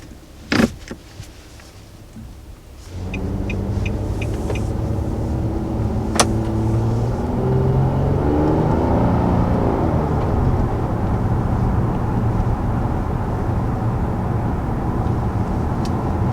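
A couple of clicks, then a 2019 Nissan Maxima V6 engine cranks and fires up, revving briefly before settling into a steady, raspy idle up close.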